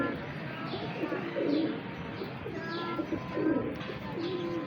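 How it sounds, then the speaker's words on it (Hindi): High-flying pigeons coo in soft, repeated low rolling calls, a few close birds with occasional faint chirps in the background; quiet and continuous over several seconds. "ये बड़े परवाज़ी कबूतर हैं"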